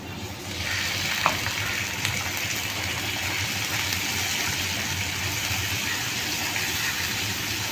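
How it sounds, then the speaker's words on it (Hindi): Spice masala with chilli flakes, turmeric, salt and a splash of water sizzles and fries steadily in a pan, a dense, even crackle with a brief clink of a utensil near the start. "और ज़रा से पानी के साथ इस मसाले को भून लेंगे।"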